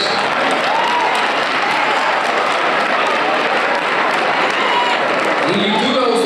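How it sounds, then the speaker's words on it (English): An audience claps loudly and steadily at a high school Black History program, dense sustained applause filling a large room, with faint voices and cheers mixed in. "And I appreciate the claps"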